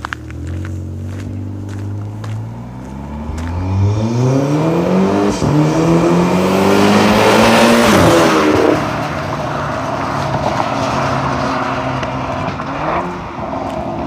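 A very low car drives slowly past, its engine revving with rising and falling pitch as it approaches, loud and close, then fades while idling on.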